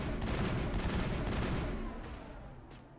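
Sustained gunfire from a sci-fi shooter, Mass Effect, as enemies with flashlight-mounted guns are fired on; a dense, continuous volley of shots for about two seconds, then quieter scattered reports.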